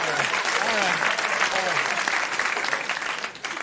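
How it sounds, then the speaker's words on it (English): A late-night television studio audience applauds a stand-up comedian, a loud, dense burst of clapping that holds steady and then tapers off near the end. "I didn't know if you were going to clap."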